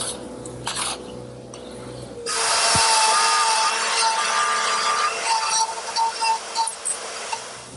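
A power tool cuts a 1.25-inch-deep mortise into a wooden leg for a butcher block piece, a loud high-pitched whine that starts after a quieter moment and then runs on, unsteady and changing as the bit works through the wood, with no talk.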